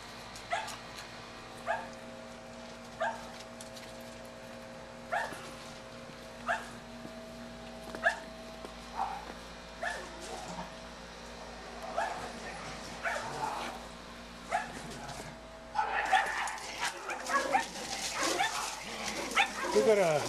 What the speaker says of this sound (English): We've got a dog next door, and they like to bark at each other over the fence.